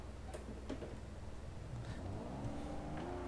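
A car pulls away slowly in first gear in Forza Horizon 4, its engine note low and building steadily from idle over a few seconds, with faint ticking clicks early on.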